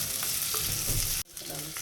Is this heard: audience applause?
no